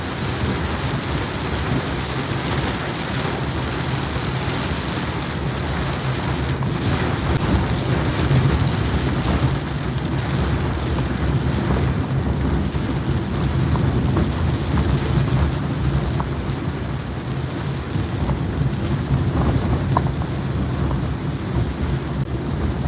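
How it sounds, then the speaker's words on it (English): Heavy rain drums steadily on a moving car while driving, with deep rumbling thunder and low road and wind roar underneath, a dense, constant wash of sound without voices. "it's heavily raining, heavily"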